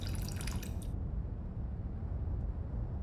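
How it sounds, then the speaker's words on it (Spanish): A bucket of blood is poured out in the video game The Count Lucanor, giving a brief wet splashing rush for about a second before it fades into a low, steady background rumble. "Has usado el cubo lleno de sangre."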